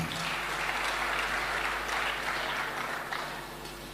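A church congregation claps in a dense, steady wash of applause that holds for several seconds and then thins slightly toward the end, heard from inside the hall.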